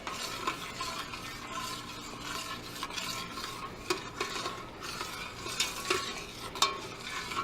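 Pindo palm jelly stirred in a pot, with soft repeated scraping and clinks of a utensil against the pan over a low bubbling sizzle, fairly quiet and close, no talking.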